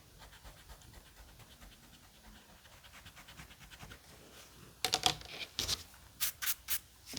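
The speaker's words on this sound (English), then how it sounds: "I'll take my fancy little eraser here" Eraser rubbing across paper while fixing a children's sunshine drawing, a soft steady scrubbing that builds slowly before a few louder, quick rubbing strokes near the end, close and alone.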